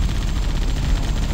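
A tank cannon firing in Halo, heard as a short loud burst of heavy booming gunfire that fills the whole brief moment with low rumble.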